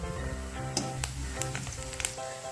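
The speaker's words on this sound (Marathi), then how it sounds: "आता टाकूया कांदा चांगला लाल होऊ द्या" Onion frying in a pan with curry leaves and crushed garlic, heard as a soft, close sizzle with a few sharp spitting pops, set against quiet background music.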